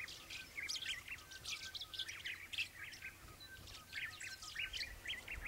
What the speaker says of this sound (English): A very few Bourke's parrots show up during broad daylight to drink.